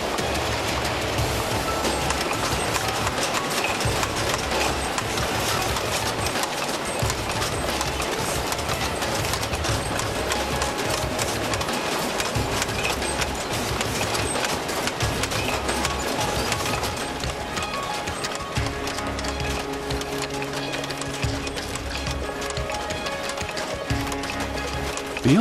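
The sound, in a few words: machines punching cork shapes out of cork strips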